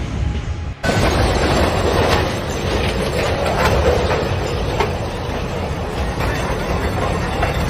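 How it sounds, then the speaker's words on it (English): A freight train in Oklahoma derails, a loud, heavy rumbling roar of rail cars grinding and crashing that starts abruptly and continues as a dense, sustained rolling din. "A freight train derailment in Oklahoma"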